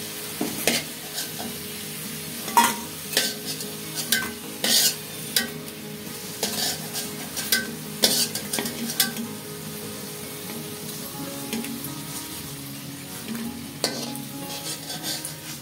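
Potatoes for aloo bhaji fry in oil with a steady low sizzle, while a spatula scrapes and stirs in the pan with irregular close clinks and taps.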